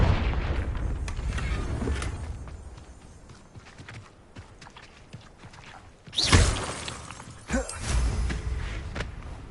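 A Confringo blasting curse in Hogwarts Legacy explodes with a loud, sharp boom, followed by a second smaller blast, over a quieter rumbling game background.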